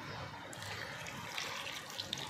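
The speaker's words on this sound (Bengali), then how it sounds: "এবার মশলার কৌটোটা ধুয়ে আমি একটু জল দিয়ে দিচ্ছি" Water runs from a tap into a small spice container during a rinse, a steady close trickle and splash with faint clinks of the container, no talking.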